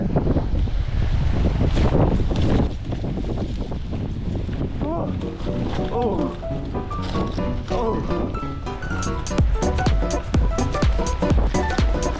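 Wind buffets the microphone with a roar as waves wash in on a beach at Samcheonpo, South Korea, a broad rushing noise that stays loud throughout, with faint voices.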